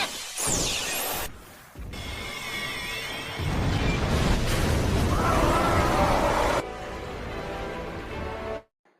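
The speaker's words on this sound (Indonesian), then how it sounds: "Sihir tadi adalah proses terjadinya ledakan gunung berapi." A magical eruption like a volcano rumbles and roars with whooshing, sizzling layers, building into a long sustained blast before cutting off abruptly.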